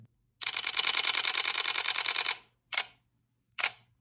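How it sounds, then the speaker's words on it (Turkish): A DSLR camera fires a rapid burst of shutter and mirror clicks for about two seconds, then two separate single shots follow, crisp and close in a quiet room. "Deklanşöre bastığınız anda"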